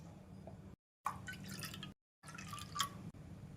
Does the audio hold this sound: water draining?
yes